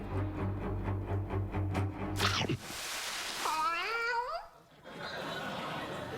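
A kitten meows several times in a row on a late-night TV talk show, the rising and falling cries coming after a burst of music and studio noise and standing out clearly and close.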